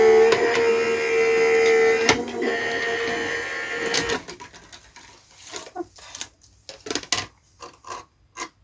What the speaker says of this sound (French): Et c'est reparti en machine.